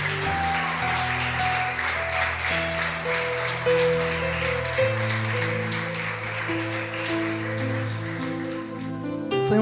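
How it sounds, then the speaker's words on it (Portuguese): A church congregation at a women's network worship night claps steadily in a dense, continuous patter, blended under sustained keyboard chords and music that carry on throughout. "Você pode aplaudir o Senhor?"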